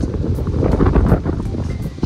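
Steady wind gusting outdoors near an airport, buffeting the microphone with a continuous low rumble throughout.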